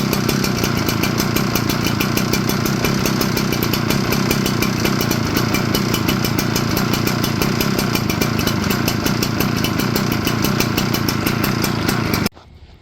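Small gas engine running rough on ethanol fuel, a loud continuous raspy buzz with uneven pulsing that holds steady for about twelve seconds before cutting off abruptly.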